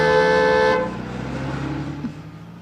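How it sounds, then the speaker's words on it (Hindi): A car horn blares in one loud, sustained honk under a second long, then cuts off, leaving rumbling road and engine noise behind. "सामने से कोई भी गाड़ी आए तो हॉर्न बजाना।"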